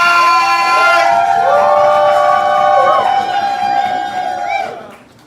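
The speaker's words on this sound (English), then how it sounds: "Make some noise for Lorelai!" A slam-poetry crowd cheers and whoops for a poet in a quarterfinal round, loud sustained shouts with rising and falling voices that fade out near the end.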